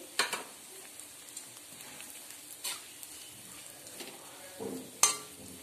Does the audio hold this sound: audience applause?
no